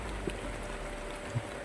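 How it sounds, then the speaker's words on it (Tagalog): Heavy rain falling outdoors, a steady broadband hiss with no pauses, at a moderate level, with a couple of brief soft knocks nearby. "Grabe yung ulan dito mga idol."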